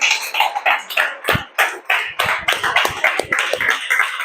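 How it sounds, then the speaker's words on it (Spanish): A church congregation claps in praise, with uneven bursts of hand claps and taps coming in loose, overlapping waves rather than a steady beat, close and fairly loud, with no clear speech. "elévale una alabanza de aplauso"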